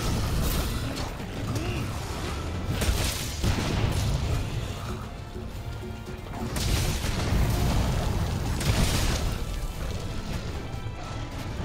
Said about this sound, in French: Les explosions, ça fait pas trop mal.